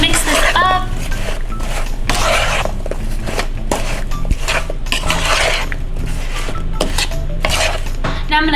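Cherries and lemon juice being stirred in a pot, with repeated close, loud scraping and clinking of a utensil against metal in an irregular rhythm, and a voice speaking over parts of it.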